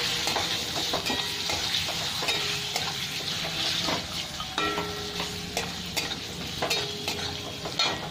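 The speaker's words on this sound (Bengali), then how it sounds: "পেঁয়াজটা একটু ভেজে নেব।" Onion frying in a pan over lowered gas, a continuous sizzle with frequent scraping and clinking stirs, close and moderately loud, no speech.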